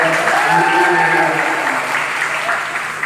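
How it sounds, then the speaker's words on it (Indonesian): An audience at an Indonesian university visit event in Padang claps in a steady, dense burst, with a faint musical tone under the clapping near the start. "Ya, tepuk tangan dulu dong."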